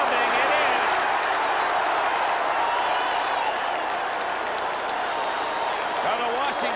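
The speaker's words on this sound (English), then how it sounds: "Well, the Washington fans cheer." Washington fans roar and clap in a large football stadium at the 1981 Rose Bowl, a broad, loud and sustained wash of cheering and applause that stays steady throughout, with a commentator's voice partly mixed in.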